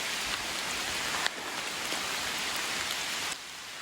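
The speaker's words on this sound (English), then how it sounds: "I've been literally waiting for this rain." Heavy, torrential rain pours down steadily outdoors, a dense, loud wash of noise that stays constant throughout with no voices.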